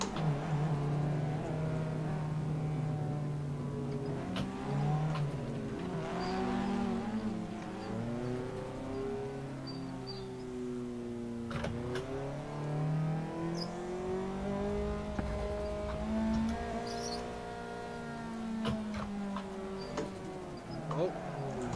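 Simulated car drifting at the Minami track in the racing game Assetto Corsa: a revving engine whose pitch rises and falls in sweeping waves with the throttle, loud and continuous, and faint talk underneath.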